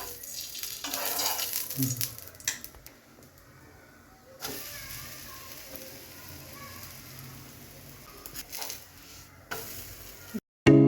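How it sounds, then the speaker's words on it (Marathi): A sabudana fasting paratha roasts on a hot griddle greased with ghee, giving a soft, steady sizzle with a few scraping stirs and handling noises, fairly quiet throughout. "आता आपण त्याला तव्यावर भाजून घेणार आहोत त्यासाठी तव्यावर मी तवा गरम करून थोडंसं तूप लावून घेत आहे"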